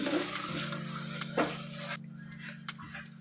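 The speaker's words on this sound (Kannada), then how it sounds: "ಇದಿಷ್ಟನ್ನ ಹಾಕ್ಕೊಂಡು ಚೆನ್ನಾಗಿ ಫ್ರೈ ಮಾಡ್ಕೊಳ್ಳಿ" Whole spices (cloves, peppercorns, stone flower and fennel) frying in a pan for egg sambar: a close, steady sizzle with scattered pops and a brief stirring scrape, with a low steady hum underneath.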